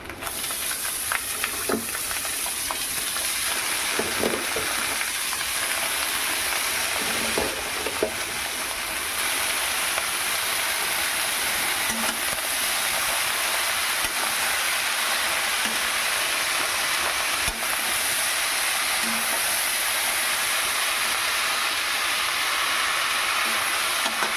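Water spinach (kolmi shak) fries in a pan with turmeric, giving off a steady, bright sizzle close by, punctuated by repeated clacks and scrapes of stirring, especially early on.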